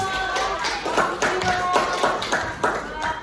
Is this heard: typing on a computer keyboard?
no